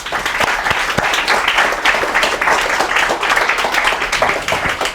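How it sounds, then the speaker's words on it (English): Steady applause from a lecture audience welcoming a speaker fills the whole stretch, dense clapping at an even level with no voices standing out. "let's give him a warm round of applause"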